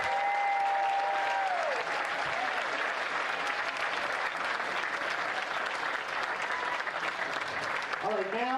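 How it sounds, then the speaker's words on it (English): An awards ceremony crowd for the Western States endurance run claps for the top finishers: sustained dense applause throughout, fairly distant and even, with brief indistinct voices near the start and end. "Let's have a big round of applause for our top 10 men and women finishers."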